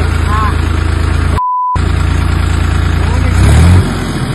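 A tractor ploughs a farm field at night near Ambegaon, its engine holding a steady, loud, close drone throughout, broken briefly by a short pure tone.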